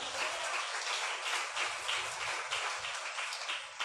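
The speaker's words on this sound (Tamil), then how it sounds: "கைதட்டுங்க." Continuous audience applause at a Tamil Christian church meeting, a dense, even wash of clapping hands held at a steady level throughout.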